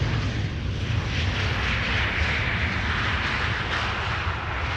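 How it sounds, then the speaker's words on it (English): A KLM narrowbody airliner arriving from Rome touches down at Amsterdam Schiphol Airport, heard as a loud, steady jet roar that holds without a break from start to finish. "Ooh, nose gear pretty high up at the moment of touchdown."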